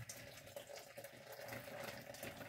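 Hot water pours steadily from a kettle for ginger juice, a faint, even trickle and splash running without a break, with no voices.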